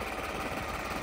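A New Holland 3630 tractor engine runs in first gear, producing a steady, loud low rumble with a continuous diesel throb and no breaks.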